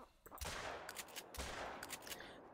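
Two loud blasts from a shotgun in the hunting video game theHunter, each followed by a crackling, ringing tail.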